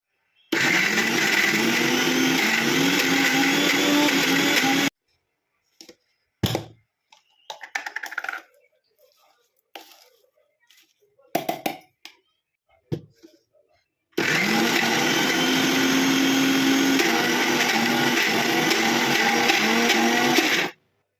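A kitchen mixer grinder blends warm red chilli chutney with salt in two long, loud, steady whirring bursts; in the quiet stretch between them come brief clatters and handling sounds, then the motor roars again.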